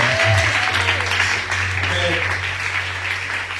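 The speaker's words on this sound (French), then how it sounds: "Acclame Jésus." Church congregation clapping and cheering in acclaim of Jesus during a praise and worship service, a steady dense wash of applause and voices throughout, with a low hum underneath.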